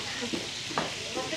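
Hilsa fish frying in hot oil, with a steady crackling sizzle and a few brief stirring or spatula scrapes in a roadside eatery kitchen at Mawa.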